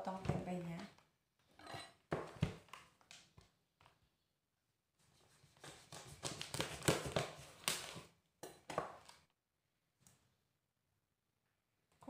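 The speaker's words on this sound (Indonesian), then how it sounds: "aku mau potong-potong tempenya" A knife cuts a block of tempeh into pieces, giving bursts of sharp chopping taps against a board, clustered into quick runs separated by quiet pauses.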